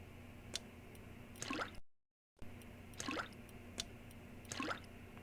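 Water poured in Graveyard Keeper, heard as two short liquid trickle-and-drip bursts rising in pitch, separated by a brief gap of silence over a quiet game ambience with a few soft drips.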